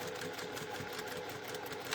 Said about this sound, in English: I've just stitched along 1/4 inch